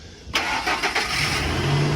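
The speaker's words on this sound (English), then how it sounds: "Started right up to the jump." A pickup truck engine, connected to a jump box at a towing auction, cranks and catches after a quiet start, then settles into a steady, loud idle close by.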